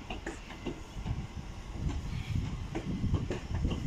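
A Class 387 electric multiple unit runs through Didcot Parkway station, a low rumbling roll with rhythmic wheel clicks over the rail joints, fairly quiet and building slightly as it passes.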